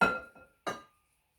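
Sauce being spooned into the bottom of a glass meal prep container, giving two short glassy clinks about half a second apart, close and fairly quiet, with silence after.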